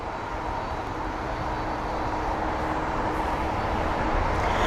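An Icelandair Boeing 767-300ER lands at London Heathrow, heard as a steady, loud, broadband jet roar with a low rumble that swells slightly toward the end, with no voices.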